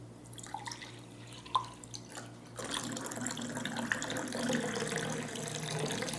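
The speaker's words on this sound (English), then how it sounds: "Let me serve some water" Water is poured into drinking glasses at a table: a few faint drips and clinks, then a steadier, close pouring trickle that continues to the end.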